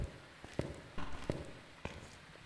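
Footsteps in the ghost-hunting video game Phasmophobia, on the Sunny Meadows map: a handful of soft, irregular thuds, fairly faint, with no talking over them.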